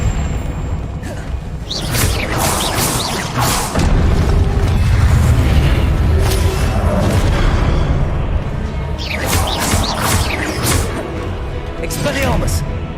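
The Incendio fire spell in Hogwarts Legacy, several bursts of whooshing flame and booming impacts mixed with combat noise, loud, with a voice calling out spells at times.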